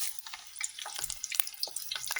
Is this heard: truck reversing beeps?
no